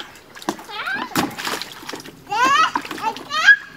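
Short splashes come from something being dropped into water, several quick plops scattered across a few seconds. A child's chatter and an adult's voice run over them throughout.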